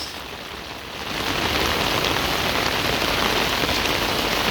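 Heavy typhoon rain pours down, a dense, loud and steady hiss of drops on surfaces that swells after the first second and then holds constant.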